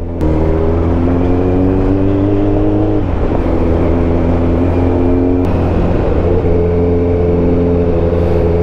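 Kawasaki ZX14R 1441cc motorcycle engine running smoothly while riding, a loud steady hum close by with a brief dip and shift in pitch partway through, and no talk.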